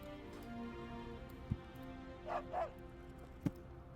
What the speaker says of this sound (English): Puppy! Oh, it's Dog from Pandaria!